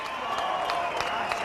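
An arena audience applauds both boxers after a ten-round fight, a brief steady wash of clapping and distant cheers.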